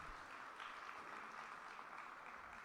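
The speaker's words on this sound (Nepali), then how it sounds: "हामी उहाँलाई एकदम ताली बजाएर हामी धन्यवाद दिनेछौँ।" A church congregation claps together during a Saturday service, a steady, dense wash of applause that holds at an even level from start to finish, with no clear voices above it.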